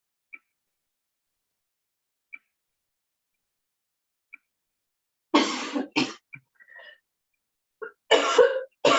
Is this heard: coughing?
yes